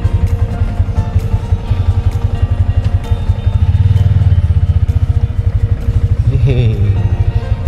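Close Yamaha Sniper 155 motorcycle engine idling and revving with a fast, steady chug that swells midway, with a brief voice near the end.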